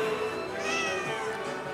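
A cat meows in a long, drawn-out, wavering cry that rises and falls, heard alone and fairly close.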